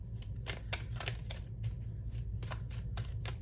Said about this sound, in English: Are we getting any more from this deck? 2 more shuffles.